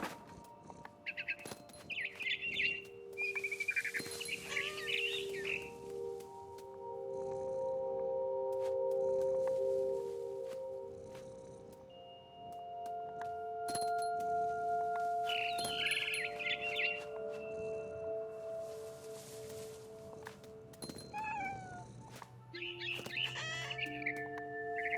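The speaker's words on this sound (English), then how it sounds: "Then I heard chirping outside my window. It was a barn swallow going back to her nest." A barn swallow in the video game What Remains of Edith Finch chirps in three short bursts of bright, rapid twitters, each set over soft background music.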